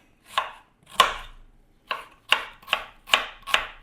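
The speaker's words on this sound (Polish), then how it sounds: "Cebulę kroję w kostkę" An onion being diced with a knife on a cutting board, giving about seven crisp, separate chops at an uneven pace, close and clear against a quiet background.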